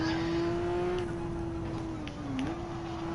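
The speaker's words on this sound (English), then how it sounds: "God, this car makes a pretty sound." A Peugeot Group 3 race car at Brands Hatch in a racing video game, its engine holding a steady high drone that dips briefly as it shifts or lifts, then climbs again, close and continuous with no voices.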